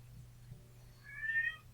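A cat gives a single drawn-out meow, soft and somewhat distant, over a quiet low hum.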